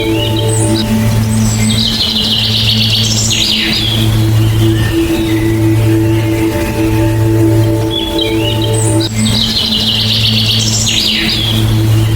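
Birds chirp and trill in bursts over a constant low rhythmic drone, fairly loud and close, with no talking.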